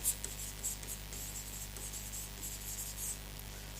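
Chalk or marker scratches across a classroom board while a word is written during a Class 12 physics lecture on electrostatics, a faint, steady scratching over a low hum with no talk.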